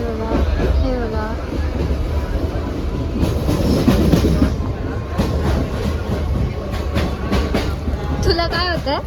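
A passenger train running on rails, heard from inside a carriage as a steady low rumble and rattle throughout, with people talking over it and brief higher squeal-like tones near the end.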